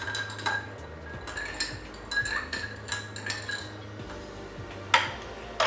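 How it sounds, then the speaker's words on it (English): Spoon clinking lightly against a glass while stirring a cranberry juice cocktail, giving soft, scattered metallic ticks over a low background hum, with one brighter clink near the end. "Give that a light stir"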